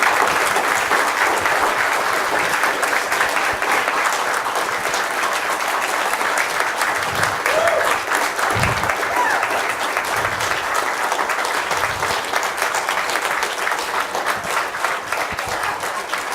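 An audience at a game development talk claps in sustained, dense applause, loud and steady throughout with no voices over it.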